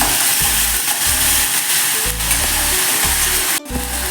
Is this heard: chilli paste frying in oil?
yes